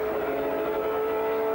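GT race car with a semi-automatic gearbox accelerating at Silverstone, a loud sustained high engine whine holding a steady pitch throughout, close and unbroken.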